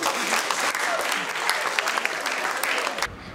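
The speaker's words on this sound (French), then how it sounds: "Merci de l'applaudir." Audience applause for a graduate who earned a master's in archaeology, at a graduates' day ceremony in 2015: steady, dense clapping from a crowd that goes on for about three seconds and then stops abruptly.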